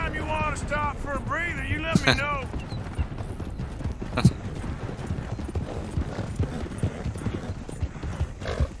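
Horse hooves clip-clop at a steady gallop through Red Dead Redemption 2's open terrain, a continuous rhythmic beat under a brief whinny and ambient game sound, with someone talking over it.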